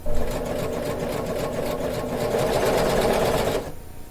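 A sewing machine stitches the side seam of faux leather pants in one continuous, close, even whir that stops abruptly near the end.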